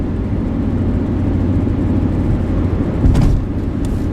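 Manual transmission car pulling away after a gear change, a steady low engine drone heard from inside the cabin with a brief louder thump near the end.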